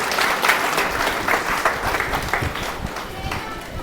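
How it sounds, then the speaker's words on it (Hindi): A crowd applauds steadily at a community student award ceremony in Sikar, a dense wash of clapping that continues throughout, with a voice speaking over it. "आप तालियां बजाएं ताकि माहौल गर्म रहे।"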